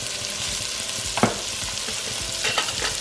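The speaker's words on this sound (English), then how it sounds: "so to the same oil we add our onion and we add a little bit of salt" Onion frying with a little salt in oil left from cooking meatballs, a steady close sizzle throughout with a few spoon scrapes against the pan.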